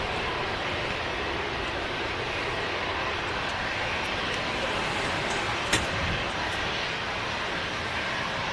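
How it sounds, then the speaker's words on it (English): Swiss Airbus A220 jet taxiing off the runway at Manchester Airport in the evening, a steady broadband engine roar and whine heard from fairly close, constant throughout with a brief click partway. "Swiss A220, and he's going to vacate right in front."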